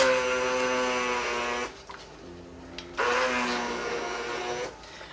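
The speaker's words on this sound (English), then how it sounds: "I find a hand blender is the perfect tool for this." Hand blender whirring loudly as it mixes melted lard soap, a steady motor drone that cuts out briefly near the middle, then starts up again and runs to the end.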